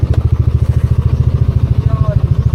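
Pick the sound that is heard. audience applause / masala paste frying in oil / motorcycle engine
motorcycle engine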